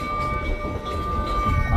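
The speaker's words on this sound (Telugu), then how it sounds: "ఇక్కడ గోబీ డిజర్ట్ లో ట్రైన్ వెళ్తుంది చూడండి." A train passes through the Gobi Desert in Mongolia, a steady, loud rumble of rolling wagons with a thin sustained tone held above it throughout.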